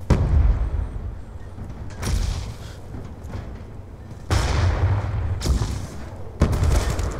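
Gunfire in Black Ops 2 hardcore team deathmatch on the Downhill map, with a Peacekeeper among the weapons: sharp, loud shots and booming bursts at irregular intervals, some close and some more distant, over rumbling background.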